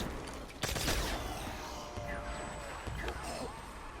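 Shots from the Defender gun echo through a zombies video game on the Nacht der Untoten map. One heavy blast lands early, and scattered bursts and impacts follow against a busy game backdrop.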